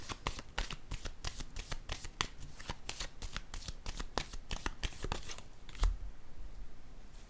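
Tarot cards are shuffled and laid down in a rapid series of crisp riffling snaps and flicks, close and clear, ending with a soft thump as a card is set down.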